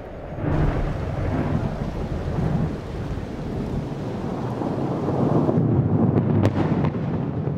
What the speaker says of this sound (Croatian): Gromovi i munje su se sudarili.